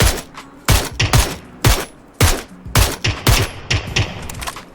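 Gunfire in the PUBG video game: about a dozen sharp, loud shots in an uneven burst-like rhythm, each with a short decay.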